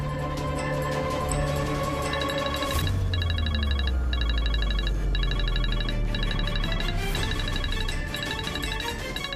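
A phone rings repeatedly in a loud, dense television drama scene, with a recurring electronic ringtone pattern layered over dramatic background music.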